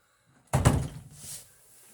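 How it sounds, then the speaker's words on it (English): A door shuts with a single muffled thump and a brief rattle as a cat comes inside, fairly close, followed by quiet. "Get in before I shut the door on you."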